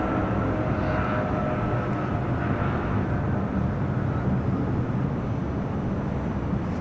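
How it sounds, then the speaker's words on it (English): Turkish Airlines Boeing Dreamliner airliner taxiing at LAX at night, a steady loud jet engine rumble and roar that holds constant throughout. "Turkish Dreamliner, they're on taxiway Delta."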